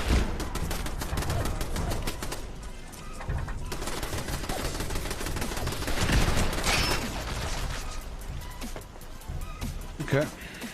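Base turrets open fire in the game Fallout 76, a dense, continuous barrage of rapid gunfire shots filling the scene, with a voice talking over the shooting throughout.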